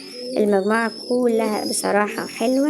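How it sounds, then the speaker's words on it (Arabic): Pigeons of various breeds, including pure French meat pigeons and King pigeons, coo steadily in repeated low throbbing phrases close by, while someone talks over them. "الحمام اللي انا عرضته زي ما حضراتكم شايفين انواع مختلفة من الحمام"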